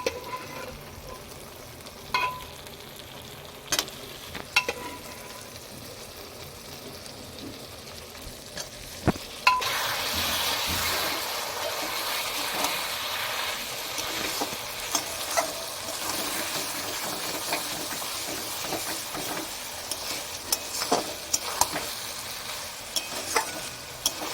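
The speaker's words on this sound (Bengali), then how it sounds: "জলটা ঝরিয়ে শুধু মাংসটা দেবো, জলটা পরে দেবো" Goat meat for a curry fries and is stirred in a pan, first with scattered clinks and scrapes over a low sizzle, then a louder, steady frying hiss for the rest.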